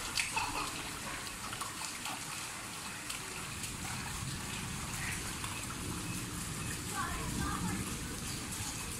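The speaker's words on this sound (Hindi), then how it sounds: "ये जनाब आप बहुत ज़ोरों से बारिश हो रही है" Heavy rain pours onto a flooded street, a constant broad hiss and splatter of falling water with trickling runoff, steady and close for the whole stretch.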